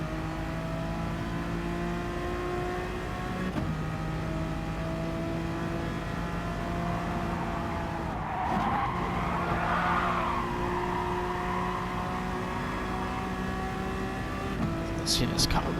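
A Renault Megane works through a tight corner on a reference lap at Goodwood, its engine holding a steady droning tone with a brief squeal mid-corner, then rising again while someone talks over it.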